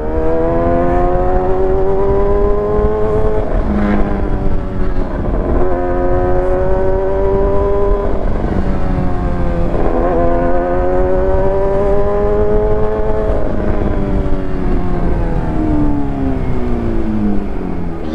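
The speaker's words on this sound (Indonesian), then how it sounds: "dengerin cara gue wheelin motor, bunyinya gimana" A loud, sustained motorcycle engine drone with the pitch rising and falling in repeated surges as the throttle is worked during a wheelie, steady and close throughout.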